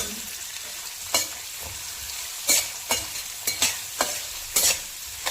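Onion and three green chillies fry in a pan under a steady sizzle, while a spoon scrapes the pan in separate strokes about every second, close and clear.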